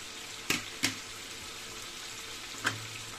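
Chicken and potatoes frying in a pan for arroz con pollo give a steady close sizzle, broken by three sharp crackles or pops.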